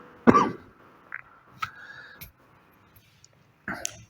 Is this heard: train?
no